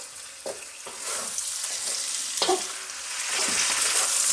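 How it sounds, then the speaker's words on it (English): Spiced coconut chicken sizzles steadily in a pan, a continuous close fry broken by several soft scraping stirs of a spoon against the pan. "Stirring often now because you've got all those spices there and they could stick and burn."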